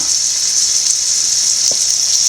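A loud, steady sizzle of bitter gourd and onion frying in hot oil, continuous throughout with no voices.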